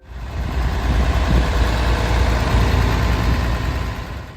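An International Harvester 1066 tractor from the early 1970s idles steadily, its low diesel rumble continuous and fairly loud with no pauses for about four seconds.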